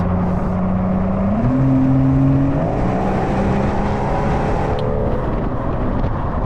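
A widebody Rolls-Royce Cullinan Black Badge with over 700 hp drives and accelerates. A deep, continuous engine drone climbs in pitch partway through and stays loud and steady, with no talking.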